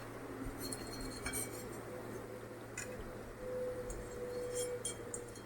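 A spoon lifts shallow-fried cabbage manchurian out of a pan, making a few faint, scattered metallic clinks over a steady low kitchen hum.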